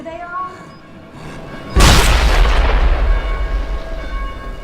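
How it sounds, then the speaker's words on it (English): A sticky bomb in the zombie game Dead Island detonates with a sudden heavy boom partway through, and a dense rumbling roar trails off for several seconds afterward, following a quieter game soundscape. "So let's see if I can get him with a sticky bomb."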